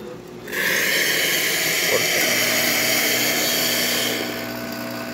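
An Andreja Premium espresso machine dispenses hot water with a sudden loud hissing rush that holds steady for several seconds, then eases slightly near the end.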